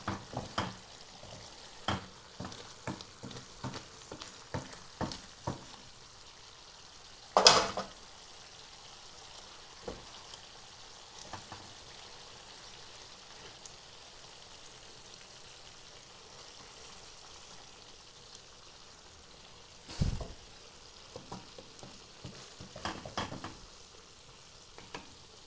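Hilsa fish fries in a pan with a low, faint sizzle, broken by scattered clicks and a couple of louder clattering bursts as it is handled and turned.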